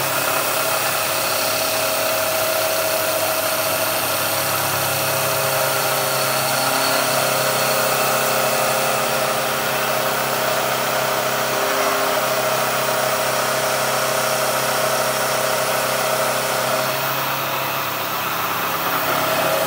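A CNC face mill spindle working hard through adaptive clearing, pulling close to 4 amps, gives a steady, loud machining whine and roar that holds unbroken for the whole stretch with no talking.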